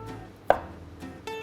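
Garlic cloves are crushed on a board while a marinara sauce for linguine is prepared, giving a few sharp, close thuds spaced irregularly in quiet surroundings.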